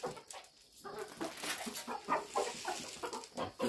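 Chickens and a rooster on a rural farm, clucking in a busy, overlapping flock with repeated close calls throughout and no talk.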